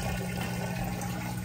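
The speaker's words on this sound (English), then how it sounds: "You hear it draining there nice and fast." Kenmore HE washer draining water, a steady, close rushing and gurgling of water pumped out with a low hum underneath.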